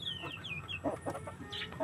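A chicken clucking close by in a short burst of several clucks with brief higher squawks, no talk.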